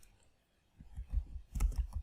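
Keys clatter on a computer keyboard in a short burst of quick, light clicks. The sound is close but soft and follows a brief quiet moment.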